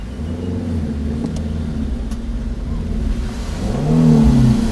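A low MPV car engine labors up a steep incline, a steady low droning hum that swells into a heavier, louder strain near the end.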